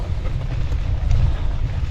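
Heavy winter wind on a mountain buffets the microphone with a constant low roar and rumble, loud and unbroken throughout, with no voices.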